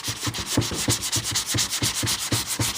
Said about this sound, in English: Take your medium sanding block and just kind of go over it like that.